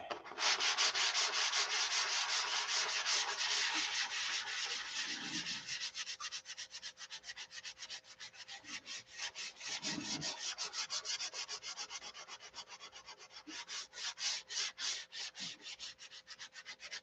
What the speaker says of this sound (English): the sanding is what gets you.